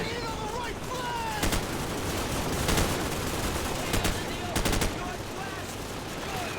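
Gunfire in the video game Call of Duty Modern Warfare: several sharp bursts of automatic shots crack out at intervals over a steady noisy battle background, fairly loud and close.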